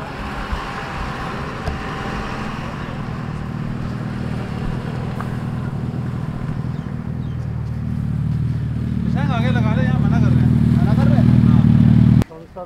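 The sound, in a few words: Suzuki Hayabusa motorcycle engine passing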